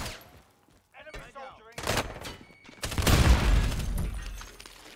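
Gunfire in Call of Duty Warzone arrives as scattered sharp shots and bursts, building toward a loud, dense volley near the end, with a voice briefly audible amid the shooting.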